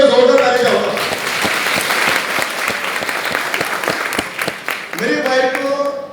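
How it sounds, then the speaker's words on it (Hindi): A burst of loud, dense clapping from an audience at an Otlar products training session rises between stretches of someone speaking and fades back under his voice. "एक बार इसके लिए मैं जोरदार ताली चाहूंगा।"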